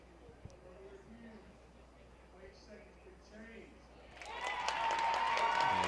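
At an Alabama versus Purdue college softball game, a crowd bursts into loud applause and cheering after an overturned call, swelling up over the last couple of seconds following a stretch of talking.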